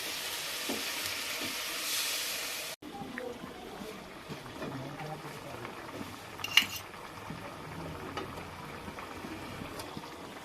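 Coconut milk poured into a frying spice paste for prawn malai curry, first a brief loud sizzling rush, then softer bubbling with spoon scrapes and clinks against the pan, close by.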